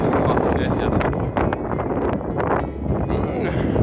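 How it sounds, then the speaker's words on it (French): Heavy seaside wind blasts across a beach, a constant, close rumbling rush that swells and dips slightly, with speech faintly mixed underneath. "je vais couper parce qu'il y a trop de vent."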